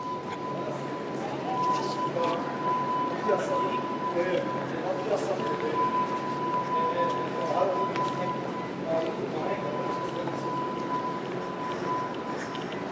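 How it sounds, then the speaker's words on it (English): A fire alarm rings from an apartment building on Richmond Street East in downtown Toronto as a faint, steady tone under busy street noise, while someone talks nearby. "Hey, that's a fire alarm I'm hearing."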